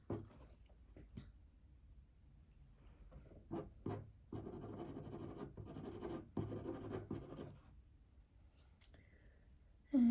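A sharp pencil scratches fur strokes for a fluffy dog's ear on paper, with close, steady rasping strokes in short bursts and longer runs, with no talk.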